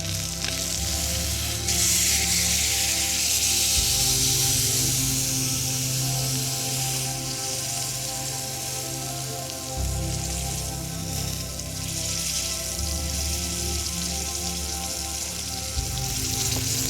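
Food frying in a pan inside a snow cave in -36°C cold, a loud, constant crackling sizzle like rain, with a steady low hum underneath and no talk.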